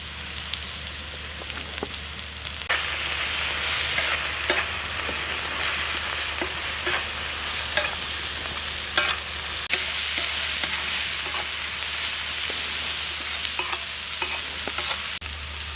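Continuous loud sizzling of ground garlic and ginger paste frying in a pan, with repeated scraping strokes of a spoon stirring throughout.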